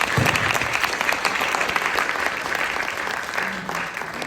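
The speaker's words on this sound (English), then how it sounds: "applause." Steady, dense audience applause fills the room at an event honoring a family legacy, loud and continuous from start to finish with no talk over it.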